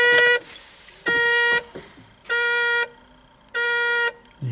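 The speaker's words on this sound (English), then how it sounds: "It's this annoying buzzer" A harsh electronic ignition warning buzzer in a Datsun 280Z electric conversion sounds in four loud pulses, each about half a second long, separated by brief gaps, close and alone.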